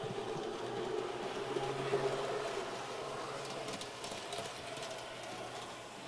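N scale model train locomotives running on Kato track, a soft continuous whirring and light rolling clatter close by, fairly quiet and steady throughout.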